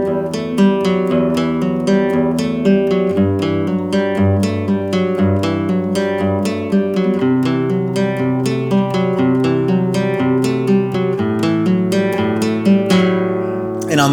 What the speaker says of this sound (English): we played 4 different bass harmony notes over the same hammer-on and pull-off riff.